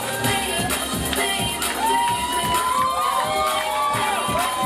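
An audience at a hypnotist show cheers and screams loudly, with high-pitched shrieks from women rising over a dense, continuous crowd roar.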